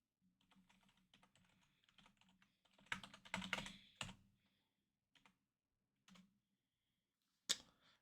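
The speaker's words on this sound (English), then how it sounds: "Man, why am I suddenly so butterfingers on the keyboard?" Computer keyboard typing during a We 3 Katamari Reroll+ game session, with quick uneven bursts of keystrokes, a dense flurry in the middle and a few isolated clicks near the end, fairly close and alone without speech.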